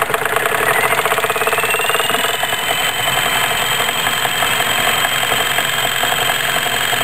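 A stepper motor turning as a generator gives off a steady mechanical whir with a fast, even pulsing, close and continuous throughout.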